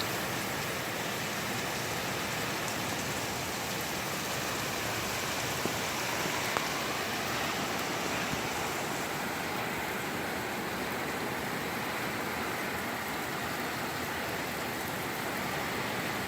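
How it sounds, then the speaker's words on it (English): Heavy rain pouring down in Ghana, a steady, dense hiss of water falling on surfaces that holds an even level throughout, with no voices or other sounds breaking through. "The rain is pouring down."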